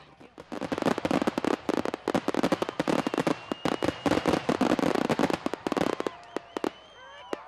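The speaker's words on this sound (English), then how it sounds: "the Prump Fireworks launch site was open to the public to set off fireworks that they had purchased here in Nye County" Fireworks go off at a public launch site in Nye County, a dense, irregular barrage of sharp bangs and crackles close by, thinning near the end with whistling trails.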